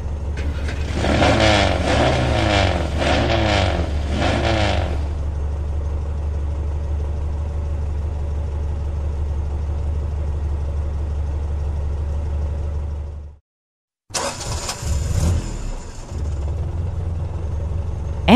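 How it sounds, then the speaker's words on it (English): A car engine runs steadily with a low, continuous rumble, opening with a few rhythmic revving surges before settling into an even drone, then cutting off briefly near the end before a short burst resumes. "Car."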